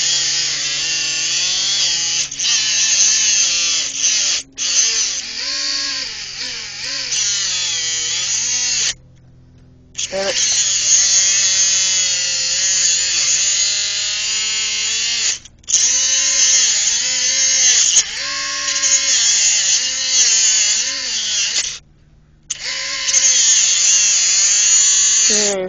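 A Dremel rotary tool grinds through a steel cable bike lock with a loud, high-pitched whine that wavers as the cut bites, broken by several short pauses before each pass resumes.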